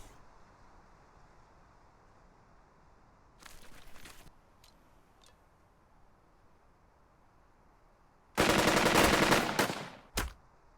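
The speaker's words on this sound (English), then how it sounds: "Watch out for that machine gun there" Machine gun fire in the WW2 game Burden of Command: one short burst, then a few faint single cracks, then a loud sustained burst followed by a final short volley, over quiet ambience.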